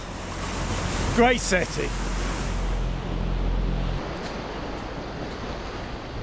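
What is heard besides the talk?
waves on the beach at Vieste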